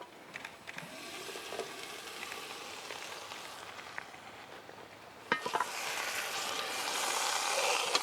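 A pork roast is turned in a camp Dutch oven, with a steady sizzle in the background. Part way through there are a few sharp clanks of metal, and then the sizzle grows louder and fuller until the end.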